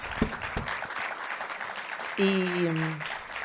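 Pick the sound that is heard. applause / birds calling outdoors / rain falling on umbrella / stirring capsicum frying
applause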